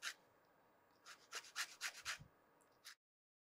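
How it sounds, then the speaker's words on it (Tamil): Orange peel rubbed lightly across a grater, about eight short scraping strokes in a quick steady rhythm, close but quiet, ending abruptly in silence. "தொலியை லைட்டாக அப்படியே கிரேட் பண்ணிடலாம்"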